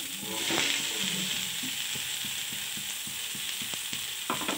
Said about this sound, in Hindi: तो अब इसको हम भून रहे हैं